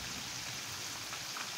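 Steady rain falls in a continuous, even hiss, moderately faint with no breaks and no voices.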